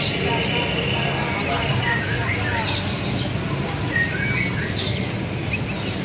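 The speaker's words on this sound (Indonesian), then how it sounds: "Ini burung apa ya? Anis Siberia." A Siberian thrush sings and chirps repeatedly amid the constant murmur of a crowded bird market, with people talking in the background.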